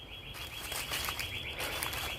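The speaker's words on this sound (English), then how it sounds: "You hear that bird?" A bird chirps in a park at sunset, with faint, scattered high calls over a steady outdoor background hiss and low rumble.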